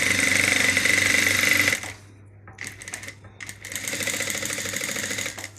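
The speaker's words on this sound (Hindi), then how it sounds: "तो ये भी सिलाई मैं लगा लेती हूँ" A sewing machine stitches an Afghani salwar in a fast, continuous mechanical whir that stops abruptly, then resumes in short bursts after a brief pause, close and fairly loud.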